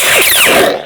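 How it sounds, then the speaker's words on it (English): A single blaster-bolt deflection from a Neopixel lightsaber with an installed sound board, a bright, loud, sweeping zap with falling electronic tones, lasting under a second and ending abruptly. "Blaster bolts on the auxiliary."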